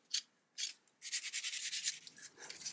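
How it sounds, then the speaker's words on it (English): Short bursts of light hand sanding with 400 grit sandpaper on the corners of an O scale model, two quick strokes followed by a longer run of steady rubbing, close and fairly quiet. "Now I'm just cleaning up the corners here with, was this some 400 grit sandpaper, some light sanding."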